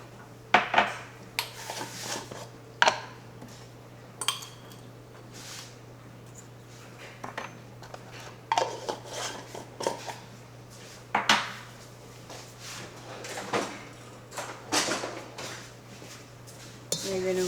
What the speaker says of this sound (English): whisk all this together